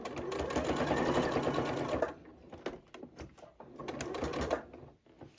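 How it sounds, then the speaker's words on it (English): A Janome 8200 QCP sewing machine stitches a fabric bowl cozy in two rapid bursts of rhythmic needle clatter, separated by a short pause with a few single stitches, close and clear. "Again, rotate, stitch down to the next dart."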